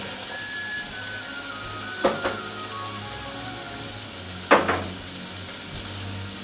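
Two carrots sizzle in olive oil in a pot, a steady close hiss broken by two brief sharp clatters of stirring, with no voices.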